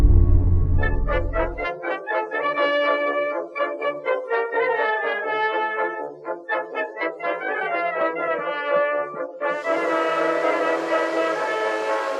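A steam passenger train on the London to Brighton line: a heavy low rumble at the start, then a long run of pulsing, whistle-like tonal blasts, ending in a steady broad hiss like released steam, with no talking.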